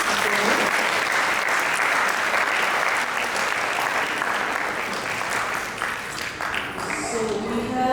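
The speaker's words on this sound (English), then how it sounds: "So let's give a big round of applause." Audience applause at an ISKCON Naperville Sri Krishna Janmashtami celebration after a guest lecture: a dense, steady roar of clapping for about eight seconds, thinning slightly near the end, with some crowd voices mixed in.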